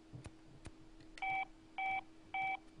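A phone in the video game Saints Row The Third dials with three short, evenly spaced touch-tone beeps, preceded by a couple of soft clicks, at moderate level with no talk.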